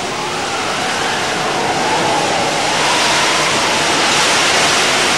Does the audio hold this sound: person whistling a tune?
no